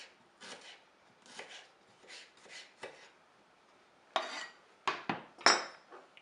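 A knife slices onions into rings on a cutting board: a series of soft, close cutting strokes, followed by several sharper, louder chops toward the end.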